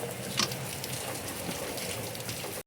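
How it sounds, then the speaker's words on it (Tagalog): Rain falls steadily outdoors as a dense, even hiss of drops across the whole stretch. One louder splash comes early, and no voices are heard. "Maulan na July 11, 2026."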